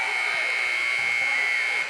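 At the end of a basketball game, a long, steady electronic buzzer blares at one high pitch for nearly two seconds, loud and unbroken before it cuts off.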